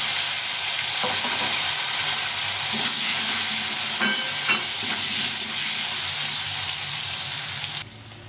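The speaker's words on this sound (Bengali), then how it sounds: "এখন এই আলুগুলোকে ভেজে নেব।" Long-cut potato strips fry in hot mustard oil, producing a constant loud hiss and crackle with occasional soft stirring scrapes near the pan.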